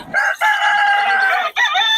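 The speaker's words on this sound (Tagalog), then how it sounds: "Mura mga manok ni tatay Tony yan" A rooster crows at a Bocaue tiangge market, two long harmonic calls with a short break between them, loud and close. A third crow starts right after the second.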